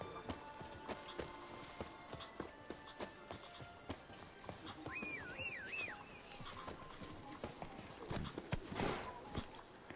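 Horse hooves clip-clop at a steady galloping rhythm in The Witcher 3: Blood and Wine, under game music and scattered voices, with a brief whinny partway through.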